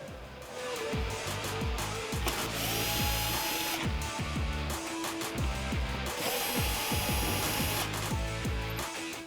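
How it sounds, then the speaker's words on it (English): Phillips screws are backed out of the taillight of a 2007-2018 Jeep Wrangler JK, heard as a string of short whirring bursts close by, each rising and cutting off in quick succession. "The only tool you're going to need for this install is a Phillips head screwdriver. We're going to start off by removing the 2 inside screws to remove our taillight."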